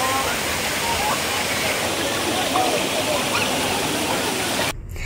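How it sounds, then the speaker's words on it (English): A waterfall on Jeju Island pours in a loud, steady roar of rushing water that fills the scene, breaking off abruptly near the end. "If you have a chance, please come visit this waterfall so you can enjoy the cold, cold, cold water in this hot,"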